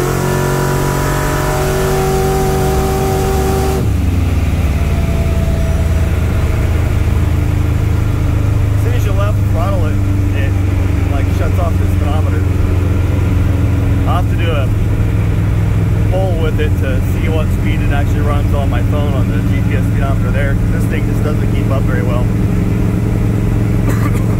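A 1965 Dodge D100 pro street truck pulls hard in third gear, its engine a loud, steady low roar that holds throughout after a brief shift at the start, with a voice talking faintly over it.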